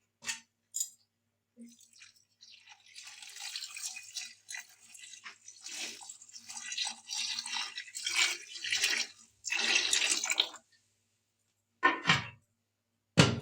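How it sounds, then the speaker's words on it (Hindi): Water is poured into a pot of kadhi pakora masala, a large two-kilo batch, with a broken run of splashing and trickling that swells and fades, then a few separate clanks near the end. "पानी डालेंगे"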